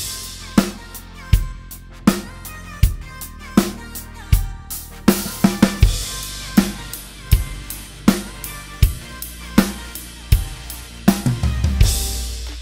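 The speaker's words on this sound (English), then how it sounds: "And then if you move from the closed hi-hat to the ride cymbal," Drum kit beat with the lead hand riding the ride cymbal instead of a closed hi-hat, a washy shimmering ride pattern over kick and snare; steady, close and loud, no voices.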